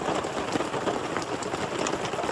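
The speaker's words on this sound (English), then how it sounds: "As I'm sure you can hear, it is raining." Steady, dense rain patters and hisses continuously on a mountain hiking trail, close by and fairly loud, with no voices.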